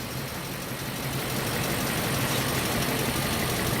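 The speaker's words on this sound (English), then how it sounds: "Literally the second we touched that wire, the motor fired up and ran." A cheap used Range Rover's engine runs steadily just after firing up, a dense rumbling idle that stays loud and even throughout, recorded close with no voices.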